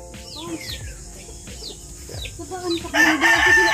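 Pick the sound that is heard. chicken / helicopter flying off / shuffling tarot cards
chicken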